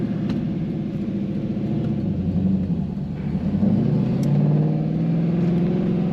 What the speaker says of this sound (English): This car also has a great exhaust sound.